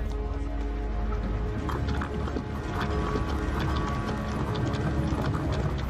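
Hooves of a horse pulling a cart clip-clop steadily and close, with faint creaks of the wooden wagon and a continuous rolling rumble beneath, no voices.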